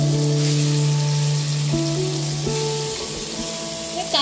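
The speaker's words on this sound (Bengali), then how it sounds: "কড়াইয়ে তেল গেছে, মাছটা একদম হালকা ভেজে নেব" Fish lightly frying in hot oil in a kadai wok, giving a steady close sizzle with soft crackle throughout, over a faint tonal hum.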